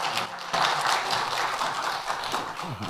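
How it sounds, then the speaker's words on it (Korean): A church congregation applauds during a Wednesday worship service, a dense, steady wash of clapping that holds at moderate level for about three seconds, with a few faint voices mixed in. "박수와 할렐루야로 축복하겠습니다"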